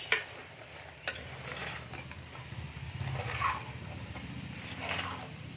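Cut mushrooms are stirred into a sizzling gravy for mushroom biryani, with a spoon scraping the pan in steady strokes over a low frying hiss, up close and without speech.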